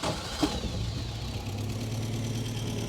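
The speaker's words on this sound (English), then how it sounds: "And let's hear the engine." Warm 1965 Triumph TR4A engine idling close by, a steady low rumbling drone with an even throb and one brief mechanical clack near the start, no voices.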